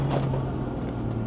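A BMW 340i with the B58 engine gives off a low, steady engine drone inside the cabin during a brief downshift, with road and wind noise underneath and no talking.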